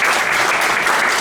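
Conference audience applauding after a talk at a business forum in Norway, dense, loud clapping filling the short stretch evenly with no voices over it.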